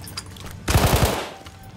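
A short burst of rapid gunfire from a support-class gun in Battlefield 1, four quick shots in a row, erupts loudly from a quiet background of game ambience.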